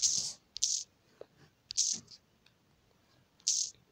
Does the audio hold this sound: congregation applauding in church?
no